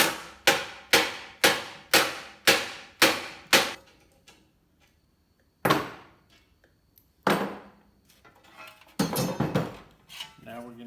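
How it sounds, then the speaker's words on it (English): Sharp, ringing hammer blows on metal, seven evenly spaced strikes in quick succession, then a pause and a few more scattered, louder hits close by. "we're going to take a different hammer and clean up this edge a little bit"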